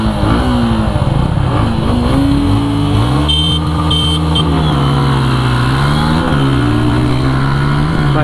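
Suzuki Gixxer 155 motorcycle accelerating hard in a drag race against a 2024 Pulsar N160: a loud, steady engine drone that climbs in pitch, dips at gear shifts and climbs again, with no talking.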